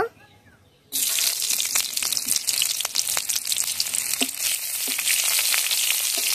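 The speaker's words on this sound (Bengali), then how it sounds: "তেলের মধ্যে পেঁয়াজ কুচি দিয়ে দেব।" Chopped onions dropped into hot oil, right after fish was fried in it, set off a sudden loud, steady sizzle that stays dense and crackling throughout, with a few sharp pops and stirring clicks.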